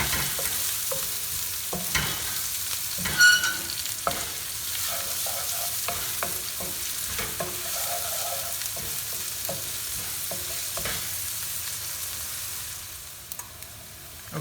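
Garlic and peppers sauté in a pan for an Indian-style shrimp creole, giving a steady close sizzle broken by frequent scrapes and clacks of stirring. No one speaks.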